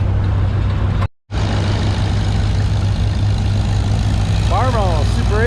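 A John Deere G tractor engine roars steadily at a tractor pull on a slippery track, a loud continuous low rumble cut briefly by a sharp dropout, with crowd noise and an announcer talking over it.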